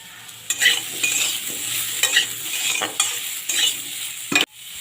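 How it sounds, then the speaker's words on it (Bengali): Salted potatoes fry in a pan for a poppy-seed potato dish, with a steady close sizzle under repeated scraping stirs of a spatula against the pan. "আলুটা আমার একটু ভাজা ভাজা দিয়েছে নুন দিয়ে দিয়েছি পরিমাণ মতো"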